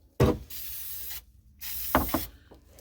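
Protective spray hisses onto car battery terminals during a battery change, in two short bursts of about a second each, close and fairly loud, with brief handling rubs between them.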